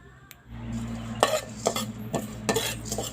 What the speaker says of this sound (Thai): เดี๋ยวผมจะคั่วแบบแห้งๆนี่ก่อนนะครับ